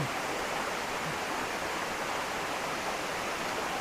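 Maticdum Busay waterfall in Tandag City, Surigao del Sur, Philippines, producing a steady, dense rush of falling water that stays constant throughout with no pauses.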